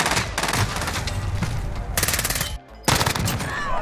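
Automatic gunfire from a gun in the video game Warzone, loud and close with rapid sustained bursts, a brief pause and then another burst, with no voices.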